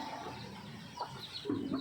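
Six-day-old chicks chirp in short, faint peeps close by, a few soft calls toward the end over a low background hum.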